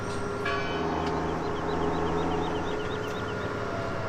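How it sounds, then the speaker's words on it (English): Church bells chiming somewhere in the Farming Simulator 17 countryside, a steady run of ringing strokes heard at a distance over a constant low engine drone, with no one talking. "A church somewhere. I heard some bells chiming away there."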